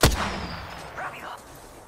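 A single sharp, loud gunshot in a shooter video game cracks at the start, then echoes and rumbles away over nearly two seconds, with a fainter secondary report partway through.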